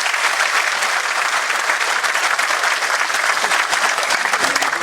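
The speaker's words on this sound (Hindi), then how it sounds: "जोरदार तालियां बजाएं इस बात के।" Loud, dense audience applause filling a state-level conference hall, a sustained roar of many hands clapping without a break from start to finish.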